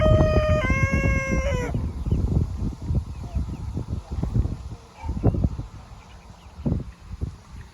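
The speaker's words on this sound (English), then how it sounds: "Welcome to the chicken farm." Chickens at a poultry farm: a rooster crows clearly at the start, then hens cluck and scratch close by while people talk nearby in a lively outdoor setting.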